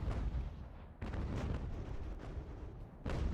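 Cannon artillery in an American Revolution strategy game fires in a quick series of booming blasts, loud and dense, with brief gaps between volleys and no speech.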